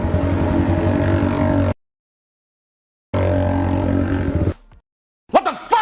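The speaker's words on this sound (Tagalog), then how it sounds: "Umandar yung big bike." A big bike's engine starts and runs loudly in two bursts separated by a silent gap, with faint shouting after, during a New Year's celebration; the bike has a new muffler fitted.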